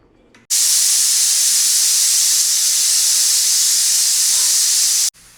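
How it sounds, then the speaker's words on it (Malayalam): Pressure cooker cooking beef on high flame, letting off a loud, steady jet of hissing steam for about five seconds that starts and stops abruptly, with no talk over it. "അപ്പം മൊത്തം രണ്ട് വിസിലായി ഹൈ ഫ്ലെയിമിൽ അടിച്ചിരിക്കണ്"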